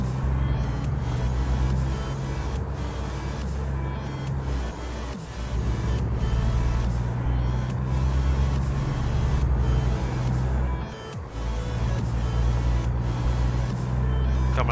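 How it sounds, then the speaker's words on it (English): A steady, loud low engine drone runs throughout, with brief dips in power around gear shifts, like a heavy truck engine revving and changing gears, in the game American Truck Simulator. "I'm getting used to just listening to the sound of the truck and shifting based off the sound."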